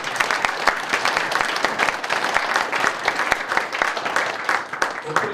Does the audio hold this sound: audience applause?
yes